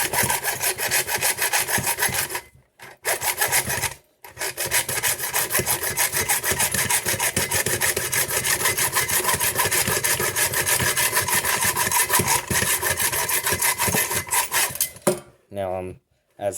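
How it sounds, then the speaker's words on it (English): Handsaw cutting through guitar wood for a cutaway, a steady rasping back-and-forth stroke sustained loudly with a couple of brief pauses. "And keep sawing."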